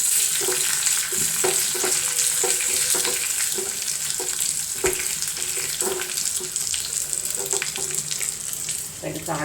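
Dried red chillies and curry leaves sizzle in hot oil for the tempering of a bitter gourd theeyal, a loud continuous crackling fry with repeated clinks and scrapes of stirring, close up.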